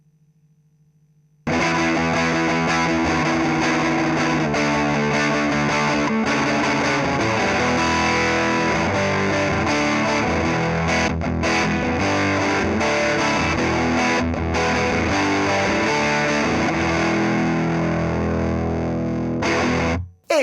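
An electric guitar through a Formula B Fuzz Rangers fuzz pedal set halfway plays a dense, continuous classic-rock riff after a brief quiet hum, loud and saturated, cutting off abruptly at the end.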